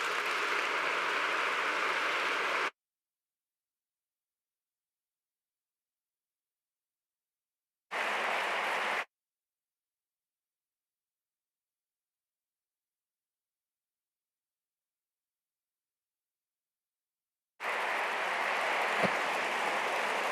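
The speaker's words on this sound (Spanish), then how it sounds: "ahora sí recibimos con un enorme aplauso a Carme Pinós." Audience applause at an architecture award ceremony, broad crackling bursts from a crowd that start loud, break off into silence, return briefly, then swell again near the end.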